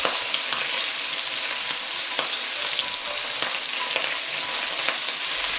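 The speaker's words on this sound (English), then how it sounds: "First, let's fry the prawns." Prawns fry in olive oil over medium heat with a dense, even sizzle and spitting crackle. The sound is close, constant and unbroken, with no voices.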